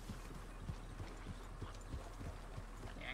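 Hooves clop at a steady walk in Red Dead Redemption 2, regular mid-loud hoofbeats close by with no voices, the horse moving at an unhurried pace.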